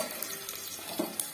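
Whole spices frying in oil in a pot for mushroom biryani, a soft, close sizzle with a few light stirring scrapes and clinks, brief and fairly quiet.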